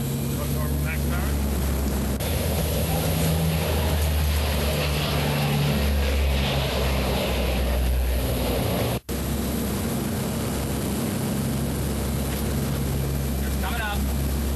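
Propeller aircraft engines held at normal max power during a 1987 airshow at Moffett, a loud steady drone with strong low harmonic bands running continuously, with a brief dropout near the middle and a voice talking over it.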